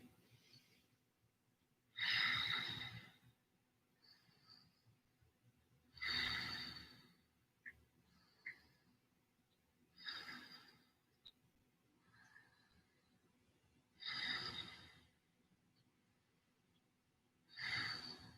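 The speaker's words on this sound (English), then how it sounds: "So 5 breaths here." Slow, deep breaths during a yoga shoulder stretch, heard as about five long, close, airy inhale-exhale cycles spaced evenly a few seconds apart, with quiet pauses between them and no talk.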